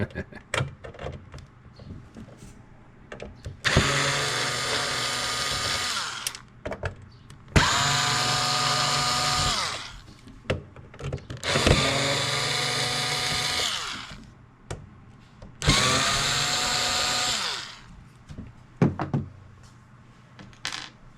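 A power screwdriver backs screws out of a PlayStation 2 console in four long whirring bursts of several seconds each, with short pauses and clicks between them, close and loud.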